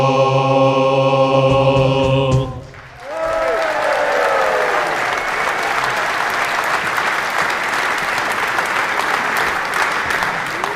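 A live concert audience at the Bedford Corn Exchange bursts into loud sustained applause as sung music cuts off, clapping dense and continuous to the end.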